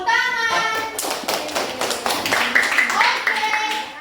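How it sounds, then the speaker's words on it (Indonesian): A classroom of children clap their hands during a lesson about magnets, irregular bursts of sharp taps with a voice heard over them at the start and end. "Iya, tepuk tangan"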